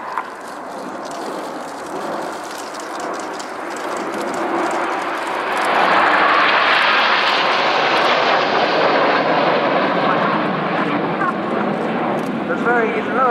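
Red Arrows jets pass in diamond formation at an air show, a broad roaring rush that builds and swells to its loudest midway then lingers, heard under a commentator speaking over a public address.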